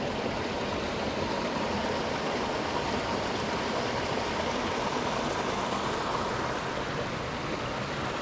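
Lincoln Brook in New Hampshire's White Mountains flows as a steady, even water rush heard from nearby, constant throughout with no voices.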